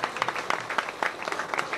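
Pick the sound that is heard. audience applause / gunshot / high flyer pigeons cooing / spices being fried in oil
audience applause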